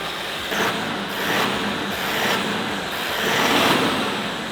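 Continuous wind and road roar inside a moving Toyota Land Cruiser 70 Series 2.8L 4x4 with boxy bodywork, a steady broadband rush that swells and eases slightly, with no voices.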